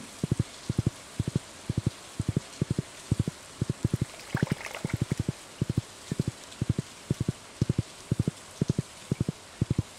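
Steady night rain in the farming game Stardew Valley, a soft continuous wash of patter under a regular pulsing pattern of low thumps, like repeated footsteps, with no talking.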